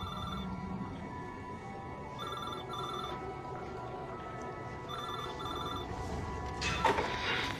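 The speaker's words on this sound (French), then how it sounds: "Je rédigeais des dossiers quand le téléphone a sonné." A telephone bell rings in repeated bursts with pauses between them, moderately loud in a quiet room, with no talking around it.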